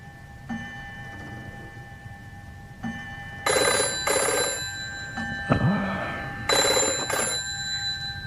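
An old telephone bell rings in bursts during a radio drama, repeated double trills separated by pauses, fairly close and clear over a faint background hum.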